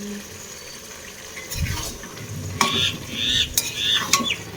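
Flat beans fry in a pan with cumin powder, chili powder and green chilies, giving a soft sizzle broken by scraping stirs and metallic clinks close up.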